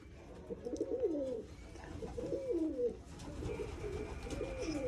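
Pigeons cooing close by in a repeated rhythm, three soft rolling coos spaced a second or so apart, with faint background noise.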